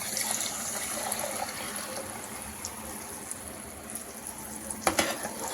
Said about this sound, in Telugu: ఇప్పుడు మనం రెడీ చేసి పెట్టుకున్నాం మజ్జిగని దీంట్లో పోసేస్తున్నాం